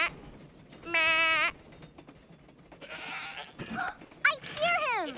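Voices imitate goat bleats in a children's cartoon, a few nasal wavering "meh" calls mixed with other vocal sounds and some talking.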